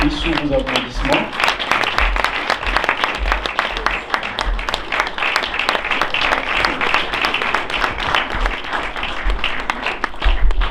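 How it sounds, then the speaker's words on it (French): Sustained, dense audience applause at a Congolese community welcome event, loud and continuous for around ten seconds, with a voice heard briefly at the start. "Et sous vos applaudissements"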